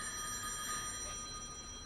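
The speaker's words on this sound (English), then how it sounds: "that ringing phone though, it seems like a horror movie or something" A telephone rings in an eerie, horror-like scene from the BTS Wings short film, a faint, steady electronic trill with sustained high tones over a quiet background.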